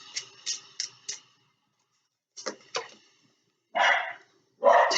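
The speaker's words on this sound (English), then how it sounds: "I'm so sorry about my dog" A dog barks in two quick bursts of sharp yaps, pauses, then gives two more barks and two longer, louder ones, close by with no talking.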